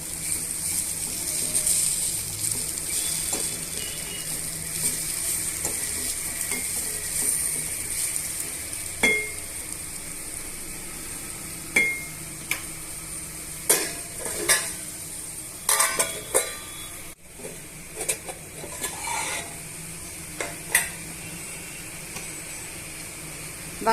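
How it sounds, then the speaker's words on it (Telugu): Potato pieces fry with garam masala in a pan for a dry potato fry, giving a steady low sizzle with scattered sharp clinks and scrapes of a utensil against the pan. "బంగాళదుంప ముక్కలు బాగా ఫ్రై అయిపోయండి"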